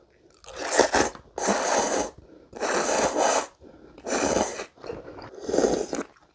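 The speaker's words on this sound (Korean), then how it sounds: "자 그럼 먹어보겠습니다" Crispy shrimp tempura in GS25 katsuo udon being bitten and chewed up close, five loud crunchy bursts in a steady rhythm separated by short quiet pauses, with no talking.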